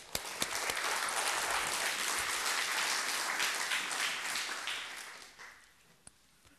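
Lecture audience applauding to welcome a speaker, a dense sustained wash of clapping that fades out toward the end, with a few isolated claps.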